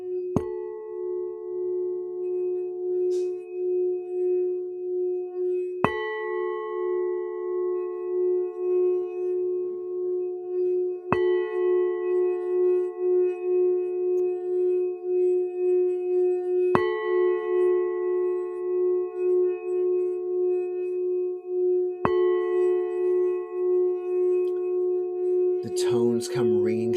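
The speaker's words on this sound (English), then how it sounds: "The tones come ringing through the earth." Meditation bowl or bell tones ring out in slow, evenly spaced strikes roughly every five seconds, each leaving a long sustained hum that blends into the next, with a brief clatter at the end.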